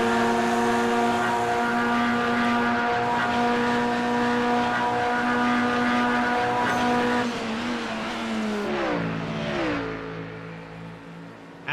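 GT3 race cars at Daytona in a racing video game: steady, loud engine drone with a clear harmonic whine, then shifting pitch as the car changes gear and slows near the end, with faint tire squeal.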